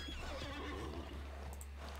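A horse in the online game Alicia Online lets out one loud, sustained whinny lasting about two seconds, over a steady low hum.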